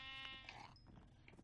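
A single sheep bleats faintly in Minecraft, giving one short wavering call at the start followed by quieter background game sounds.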